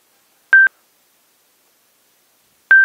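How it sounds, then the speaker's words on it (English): A Sena 10C Pro motorcycle helmet headset sounds two identical short electronic tones about two seconds apart while a phone connects, clean and isolated against silence. "Phone connected."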